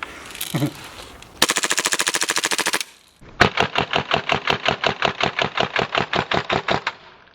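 Airsoft gun firing on full auto at an airsoft arena, loud rapid bursts close by: a short burst of steady rapid shots, a brief pause, then a longer sustained burst of evenly spaced cracks.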